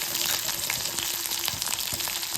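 Mustard seeds, urad dal and green chili sizzle in hot oil in a kadai, a dense, continuous close crackle with small popping bursts throughout.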